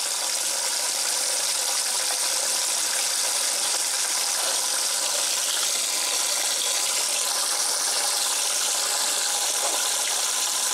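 A 1996 Maytag Dependable Care Plus washing machine on its delicate cycle kicks into low-speed agitation, giving a steady wash of sloshing water and faint mechanical churning that stays even and moderately close throughout.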